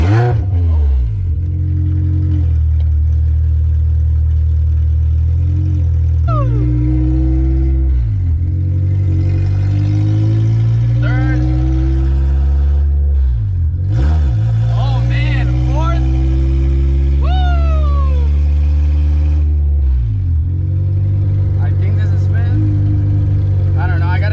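K-swapped Honda Civic engine revving while driving, with repeated rising and falling pitch sweeps as the revs climb and drop, loud and close throughout.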